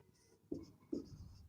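Two short scratchy strokes of chalk or marker on a board during a maths lesson, quiet and close, with a brief pause between them and no talk.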